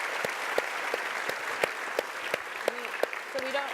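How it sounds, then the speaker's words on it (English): Audience applause at a talk about graduating students, fairly distant and moderate, with a few sharp individual claps standing out and some voices over the clapping. "So we should clap for that."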